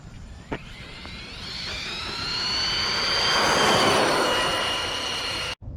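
An Arrma Kraton 1/8 8S RC monster truck with a 1250kv motor drives past, its high electric whine rising and swelling as it nears, then fading away, loud and steady with no talk.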